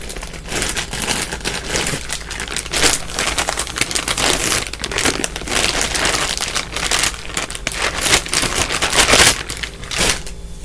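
Tarot cards are handled and shuffled at close range, a loud continuous papery rustle with rapid riffling slaps and crinkles throughout, no speech.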